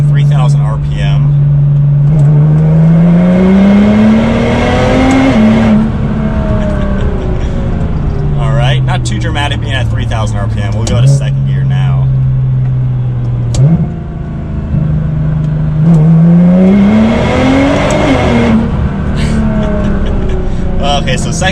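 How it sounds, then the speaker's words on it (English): A tuned Nissan GT-R with anti-lag does a full-throttle rolling launch in third gear from about 3,000 RPM. The engine drones loudly and climbs in pitch, drops with each shift, then surges again, and a voice talks over it throughout. "all I do is hold down the cruise control button and then give it full throttle. And when I let off the button, it's gonna go like crazy"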